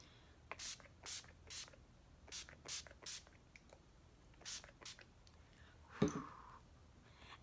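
Makeup setting spray is misted onto a face in a run of short, close, hissing spritzes with quiet pauses between them, followed by a brief rustle near the end.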